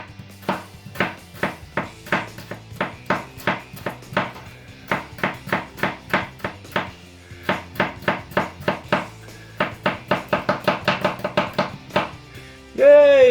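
A handmade knife chops through an onion on a board in a home shed workshop, with a long run of crisp, steady knocks, close and loud, speeding up toward the end before a brief louder rustle.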